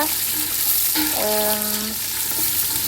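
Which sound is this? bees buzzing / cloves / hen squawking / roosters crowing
cloves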